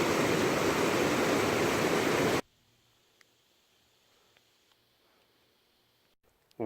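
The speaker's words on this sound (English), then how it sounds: "Something about waterfalls that just calms the nerves." Loud, steady roar of a waterfall on Cascade Mountain fills the first two seconds up close, then cuts off abruptly to near silence with faint scattered ticks.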